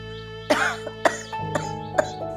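Several harsh coughs from an elderly mother with a persistent cough close by, four sharp bursts spaced about half a second apart, with a rasping throat-clearing quality.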